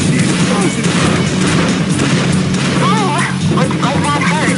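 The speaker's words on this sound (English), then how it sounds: "What I love about the explosion is the explosion." Explosions and weapon blasts from an Unreal Tournament 2004 deathmatch played with the Ballistic Weapons mod boom and crackle in a dense, noisy mix, with voices talking over the game action.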